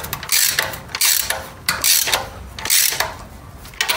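A wrench ratchets in repeated clicking strokes while tightening a bolt to tension an engine's ancillary drive belt, loud and close with a steady back-and-forth rhythm and no talk.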